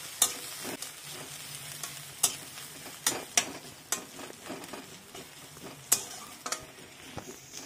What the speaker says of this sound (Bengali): সাদা তেলে পেঁয়াজ ভাজছি